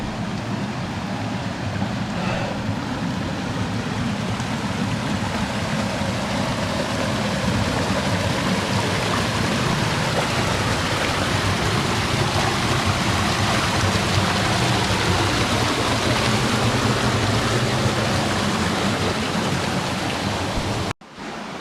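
A creek flows beside the Black Star Canyon trail in Orange County, California, making a steady, close rushing wash of water that holds evenly throughout with no voices.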